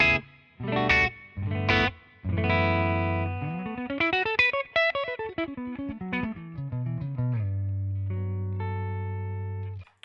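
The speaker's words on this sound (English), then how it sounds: "paired up spring reverb and a room reverb, so I can get that feeling of a tube-driven reverb amp in the room." Electric guitar played through a '58 high-powered Twin amp tone with spring reverb and room reverb, loud and alone: picked chords and single notes, a rising then falling run of notes, ending on a sustained low chord.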